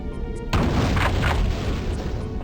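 A shotgun blast in the video game Terminator: Future Shock, one sudden loud boom with a broad rumbling tail that rolls on for about two seconds, heard alone with no voices.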